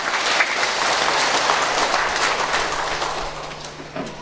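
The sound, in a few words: applause for the congregation's elders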